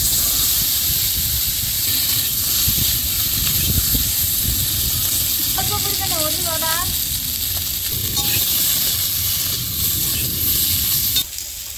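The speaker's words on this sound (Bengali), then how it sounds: "আলু আর কাঁচকলা আমি হালকা লাল লাল করে ভেজে নিচ্ছি" Potato and green banana pieces fry in hot oil that was already used for frying fish. A steady, close sizzle and hiss continues throughout, with someone briefly speaking over it.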